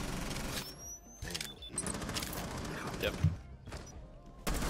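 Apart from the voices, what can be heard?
gunfire in the video game Rainbow Six Siege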